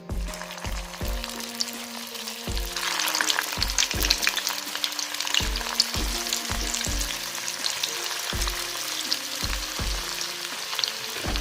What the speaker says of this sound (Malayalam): നമുക്കിനി ഇത് വറുത്തെടുക്കാം